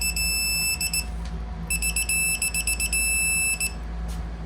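Electronic torque wrench alert on an M52 engine build as bolts are tightened to 29 foot-pounds, giving loud, high beeps in short rapid bursts over a steady background hum, with no talking.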